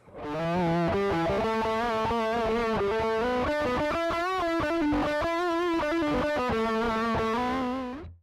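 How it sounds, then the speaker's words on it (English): An electric guitar played through an overdrive pedal, thick and distorted, sustaining chords and melodic notes continuously at high volume. "I had a lot of fun with this overdrive pedal."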